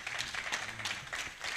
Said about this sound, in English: Great round of applause for my panel.